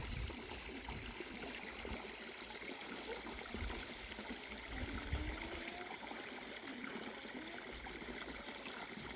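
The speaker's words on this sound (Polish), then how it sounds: "Już zaraz skończymy dolewać wodę" Water pours into a garden pond during spring cleanup, a quiet, steady trickling rush that holds evenly throughout with no voices.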